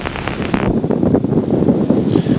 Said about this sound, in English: It's so windy. It's bloody windy.